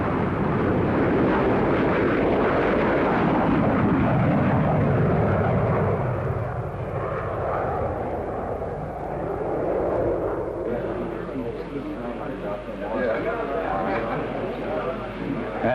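A 1942 Whittle-engined jet aircraft in flight gives off a loud, steady broadband roar that eases somewhat toward the end, with a narrator's voice running over it.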